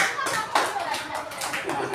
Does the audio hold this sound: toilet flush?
no